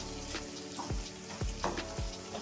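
Onions frying with turmeric, chilli powder and salt, stirred in a pan: a steady close sizzle broken by four or five scraping strokes of a spoon or spatula, with no voices.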